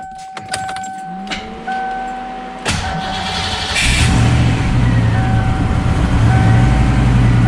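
A car fitted with a newly installed 500HP T5 transmission, heard as the engine starts and settles into a steady, rumbling idle, with a few clicks and a jingle of keys beforehand and a faint whine riding over the close, loud running.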